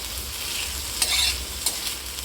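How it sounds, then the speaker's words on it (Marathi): Moong beans roasting in hot oil with onion, a continuous bright sizzle close by, with a few quick stirring clacks and no voices. "आणि आपण कांद्यामध्ये तेलामध्ये थोडी भाजून घ्यायची"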